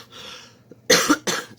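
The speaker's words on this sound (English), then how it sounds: "I'm still got morning cough" A woman gives a few harsh morning coughs close to the microphone, first a softer throat sound and then two loud bursts in quick succession.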